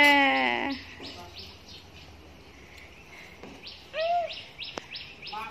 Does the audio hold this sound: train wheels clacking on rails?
no